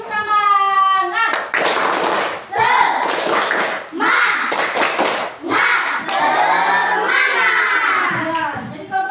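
A classroom of children clapping and shouting together in a rhythmic 'tepuk semangat' chant, loud and close, with steady bursts of claps and voices filling the room under an adult's voice at the start.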